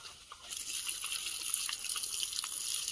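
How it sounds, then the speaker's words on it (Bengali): Water poured from a container onto field soil to make mud, a steady bright splashing and trickling that starts after a brief quiet moment and continues close by with no talk over it. "আমি তো জল দেবো।"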